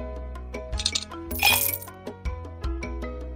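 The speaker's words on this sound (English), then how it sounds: "Drop in some ice cubes." Ice cubes dropping into a glass in a children's cooking video game, a few bright clinks and a clattering splash over steady cheerful background music, with no talking.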